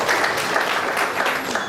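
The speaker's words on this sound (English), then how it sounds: "Can we have a round of applause, please?" Audience at an income tax technical seminar applauding, a dense, even round of clapping from many people throughout.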